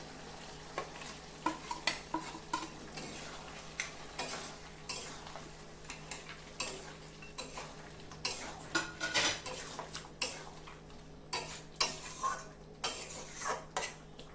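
Mutton frying with ginger, garlic and green chili paste, a soft sizzle under repeated clattering stirs and scrapes of a metal spoon against the pot, no talk.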